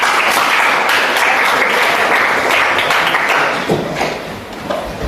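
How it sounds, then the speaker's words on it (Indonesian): A classroom of students claps for two classmates during a physics lesson on parallel circuits, dense sustained applause at close range that holds steady and thins slightly near the end. "Nah, tepuk tangan dulu buat keduanya."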